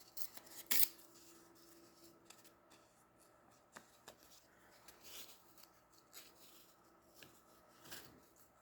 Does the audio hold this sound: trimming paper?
yes